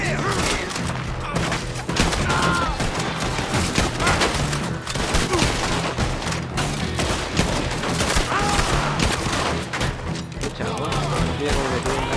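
Dense, loud gunfire fills a Red Dead Redemption 2 shootout, with rapid overlapping shots and thuds cracking without pause for the whole stretch. Faint voices surface occasionally beneath the barrage.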